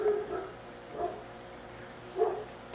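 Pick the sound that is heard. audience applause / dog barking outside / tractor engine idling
dog barking outside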